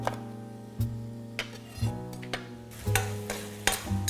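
Caramelised lemongrass, ginger and chilli sauce cooking on very low heat in a pan, with steady quiet sizzling and periodic stirring clatters of a utensil against the pan, alone without talk.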